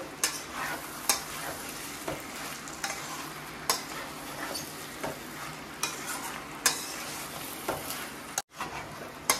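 Mutton boti frying in a pan with a steady close sizzle, broken by repeated scraping stirs at irregular intervals and a brief dropout near the end.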